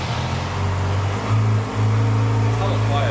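A motorcycle idles through its stock exhaust with a steady, fairly quiet low hum and a brief dip partway through, while people talk nearby.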